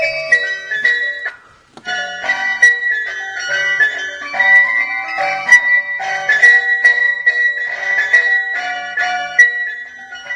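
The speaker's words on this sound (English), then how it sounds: "I got an ice cream truck sound on here" An ice cream truck jingle plays through a Boom Blasters Sonic Series horn kit, a loud, clear electronic tune of bright repeating notes running steadily after a brief pause near the start.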